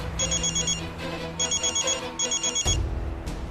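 An old-style telephone bell rings in three rapid trilling bursts, followed by a thud as the receiver is picked up.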